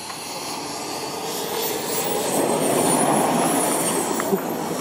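JetSet F2A jet-engine RC aerobatic plane landing at a flight show, a continuous loud turbine roar and whine that swells slightly as it passes, with faint crowd noise behind.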